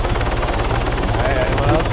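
A helicopter in the video game Operation: First Strike thrums with a steady, rapid rotor chop, loud and close, while voices talk over it.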